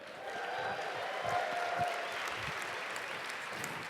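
A large audience in Calgary applauds and cheers steadily, a dense wash of clapping with occasional whoops that holds at an even level throughout.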